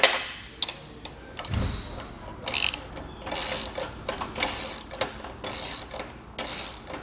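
Roof rack crossbars on a Malone EcoLight Sport trailer are tightened down with a ratchet, giving bursts of rapid metallic clicking in uneven spurts, close up, with a brief low thump early on.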